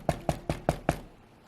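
Five sharp, hollow knocks on the hard crust of a baked loaf of bread, evenly spaced and close, followed by quiet.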